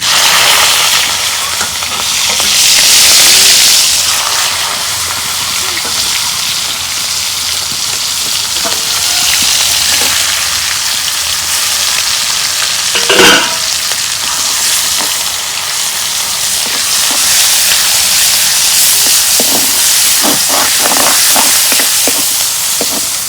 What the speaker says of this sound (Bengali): তেল গরম হয়েছে, এখন পেঁয়াজ দিয়ে দেব।